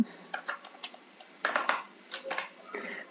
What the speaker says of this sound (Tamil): இப்போ நான் தமிழ் சீரியல் டைப் பண்ணணும்